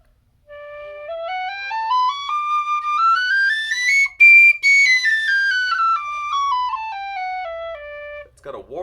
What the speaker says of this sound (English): And now just a regular whistle.